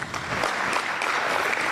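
Audience applause at a women's economic forum in Kenya, a steady dense patter of clapping from a large crowd filling the short moment without voices.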